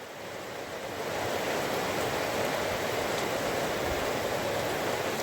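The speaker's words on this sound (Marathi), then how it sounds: "खूप मोठा पाऊस आला, वाटलं पण नव्हतं मित्रांनो एवढा पाऊस येईल" Heavy rain pours down outdoors in Dapoli, Ratnagiri in the Konkan, a steady, dense hiss of falling water that swells slightly in the first second and then holds constant, with no voices.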